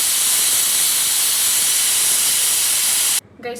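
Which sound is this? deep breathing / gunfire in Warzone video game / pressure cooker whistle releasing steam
pressure cooker whistle releasing steam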